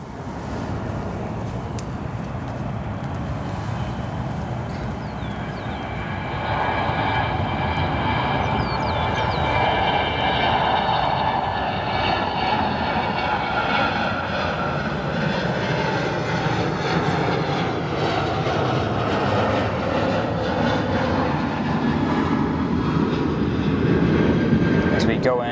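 Airliner jet engines roar at O'Hare airport, a broad, loud rumble that swells and holds steady for the whole stretch, with no break in the noise.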